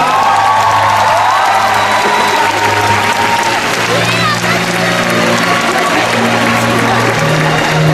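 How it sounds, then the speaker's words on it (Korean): A crowd at a televised Korean music competition finale claps and cheers loudly and continuously, with whoops rising over dense applause while an announcer's voice carries on beneath it. "자, 여러분 큰 박수 부탁드리겠습니다"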